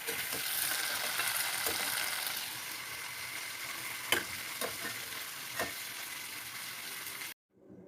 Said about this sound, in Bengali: চিংড়ি মাছটা ফ্রাই হয়ে গেছে।